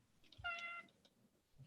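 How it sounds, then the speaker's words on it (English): Cats in the background of a home setting let out a faint meow, a single short tonal cry with a few soft chirps around it, distant and quiet beneath low room noise. "if you can hear cats in the background"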